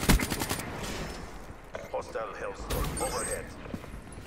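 Rapid automatic gunfire from Black Ops 3 rattles in quick bursts at the start and again later, mixed with game effects and someone talking between the shots.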